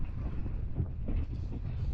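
Strong mountain wind near the ancient Tibetan village of Lomanthang in Upper Mustang buffets the microphone in a steady, loud, rumbling roar with gusty surges throughout.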